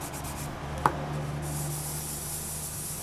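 Steady, close rubbing of sandpaper across a small polymer clay pendant, working through the grits on its front, sides and back. A continuous soft scratchy hiss with one brief knock partway through.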